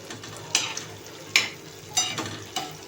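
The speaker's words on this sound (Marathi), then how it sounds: "जे काजू बदाम आपण घेतले होते ते बटर टाकून आता आपण थोडेसे फ्राय करून घेऊया." Cashews and almonds frying in butter in a pan, a soft steady sizzle broken by four sharp stirring scrapes and taps at irregular intervals, close and clear with no talking.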